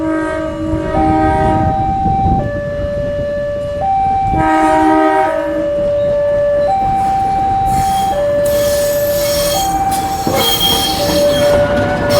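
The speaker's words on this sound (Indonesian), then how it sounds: "ini lokomotif udah dilepas dari rangkaian dan berjalan ke arah barat" A diesel locomotive uncoupled from a new INKA KRL electric train rolls along the rails. Loud, sustained wheel squeal slides between shifting tones nearby, over a low rumble, with no talk.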